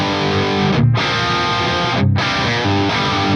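Dry electric guitar tone run through an Axe Fx III amp and cab model, sustained distorted chords ringing steadily with two brief pick attacks, loud and close with no talk.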